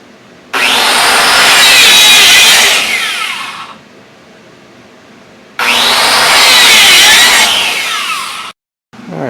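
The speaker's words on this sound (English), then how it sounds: "I'm going to have to cut a 1/2 inch groove in here with a dado" A dado blade cuts a half-inch groove in wood for a large ornamental door, two long, loud, close cutting passes, each starting abruptly, roaring steadily and then spinning down, with a brief pause between them.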